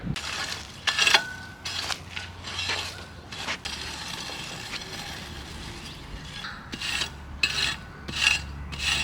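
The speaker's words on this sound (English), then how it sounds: "get our hard rake and get all of our dirt together" A hard rake dragged through garden soil, gathering the dirt in repeated gritty scraping strokes, some sharper and louder, over faint low background noise.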